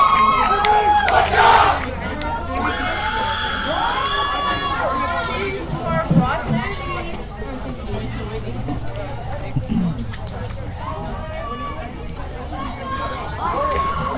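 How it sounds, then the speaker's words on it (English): Supporters on the bench at a boys' first team school rugby match between Fairmont and Edgemead cheer and shout as the team re-enters the field, a loud, busy crowd roar with yells and chatter throughout. "EDGEMEAD busy re-entering the field with a big cheer from the supporting bench"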